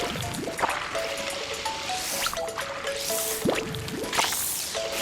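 Splashing, gushing water surges in bursts over a bright synthetic melody of electronic tones, with drippy, squishy liquid effects, in the video game Yoshi and the Mysterious Book.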